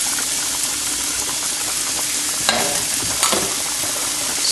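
Garlic and oregano fry in a pan for a Ugandan pasta tuna dish, giving a steady bright sizzle with a couple of sharp scraping stir strokes partway through, no talking.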